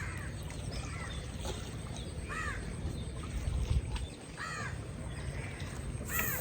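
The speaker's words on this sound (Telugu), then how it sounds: "బర్డ్స్ చూడు." Crows cawing repeatedly on a street near a hostel in Alappuzha, Kerala, several harsh calls spaced through a steady background of traffic and street noise.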